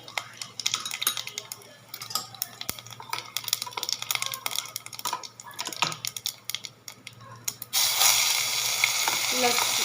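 Cumin seeds dropped into hot oil for dal tadka, clinking utensil taps and light crackling at first, then a sudden loud, steady sizzle bursting up close and holding to the end.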